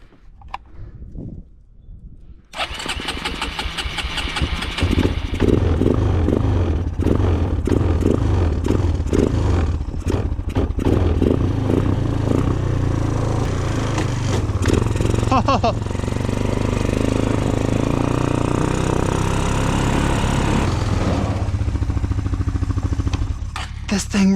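A Suzuki LTZ 250 sport quad engine catches after a short quiet start and then runs steadily and loudly with a rough, clattering idle for about twenty seconds.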